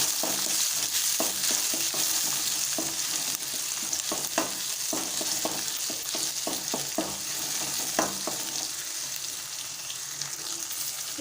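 Onions and small tomatoes sautéing in a pan for karuvadu thokku, a constant close sizzle broken by repeated sharp scrapes and taps of a spoon stirring against the pan, with no talking.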